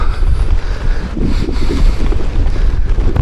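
Strong headwind roars across the microphone while cycling along a field track toward sandstone cliffs, a dense, loud, low buffeting rush that surges and dips continuously with no voices.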